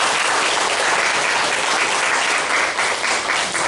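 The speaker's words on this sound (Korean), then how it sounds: "환영의 박수를 부탁드리겠습니다." A church congregation at an open worship service gives welcoming applause, a dense, loud, steady clatter of many hands that fills the space without pause.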